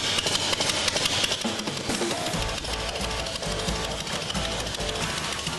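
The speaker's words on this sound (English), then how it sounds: "The sound of a hot rod motor and a hot rod Harley" A hot rod Harley motorcycle engine runs steadily and loud, its rapid mechanical chatter and low rumble filling the whole stretch without talk.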